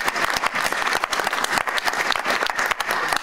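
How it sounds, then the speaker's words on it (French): A church congregation applauding loudly and continuously in a dense, uneven burst of claps close by, with faint voices mixed into the crowd. "On acclame notre Dieu encore très fort."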